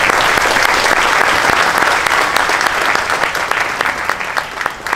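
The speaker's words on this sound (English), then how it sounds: "So give Joy Bailey a round of applause." Sustained audience applause at a stadium museum ribbon-cutting ceremony, dense and loud throughout, with many hands clapping steadily before it begins to thin slightly toward the end.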